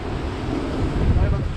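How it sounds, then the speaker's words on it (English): Violent wind gusts buffet a riverside campsite during a thunderstorm, a broad roaring rush that builds toward the end, close and loud against the microphone. "It's like these violent gusts coming through"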